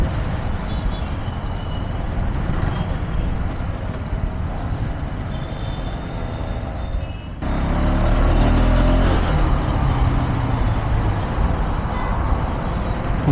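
A 2025 KTM Adventure 390 S motorcycle rides through traffic, giving a steady, loud engine and wind roar that rises sharply halfway through as the bike pulls harder, with no talking.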